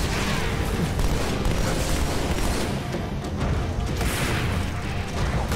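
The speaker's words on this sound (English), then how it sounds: "I shot the rocket into the scarab and it blew you up" A rocket blast against a Scarab in a Halo video game, a loud, dense rumbling explosion that roars on steadily with crashing debris and no talk over it.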